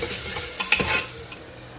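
Onions frying in about two tablespoons of oil for chicken haleem, with a close, steady sizzle under a few sharp scrapes and clinks of stirring, no talk.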